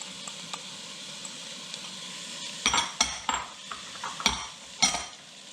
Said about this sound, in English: we're going to cook these and saute these until they're basically softened